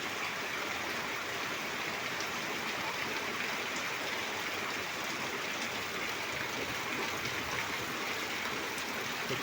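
Steady, dense rush of heavy rain and floodwater running over a paved road, a continuous broadband wash of water that holds an even level throughout with no voices.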